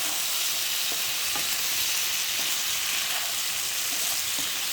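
Fish head and tail frying in a spiced whole-masala curry, a steady close sizzle and crackle with faint stirring scrapes, no voices.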